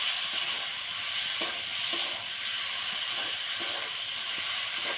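Potatoes and then greens (pui leaves) dropped into hot oil for a fish recipe hiss and sizzle steadily, a dense close frying crackle with a few brief pops and no voices.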